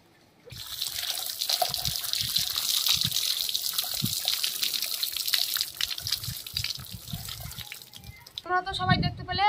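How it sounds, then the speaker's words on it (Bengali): A palm fruit is rinsed in water, with continuous splashing and trickling under a running tap, then a brief clatter at the end. "এবার আমি তালটাকে ধুয়ে নিয়ে আসবো ভালো করে।"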